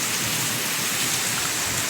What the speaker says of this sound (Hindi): इसे बोलते हैं बारिश।